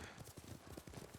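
Horse hooves clip-clopping in the video game Ghost of Tsushima, a quick steady rhythm of soft hoofbeats at a trot, faint and continuous.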